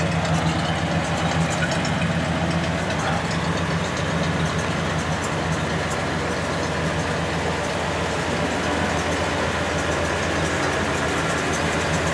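A 1936 Ford engine idles steadily and fairly loudly throughout, its even rumble holding with no talk over it.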